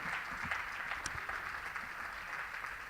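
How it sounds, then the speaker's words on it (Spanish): A church congregation gives a welcoming round of applause, a steady wash of many hands clapping at moderate distance, even and sustained throughout with no voices rising above it. "Dame un aplauso de bienvenida"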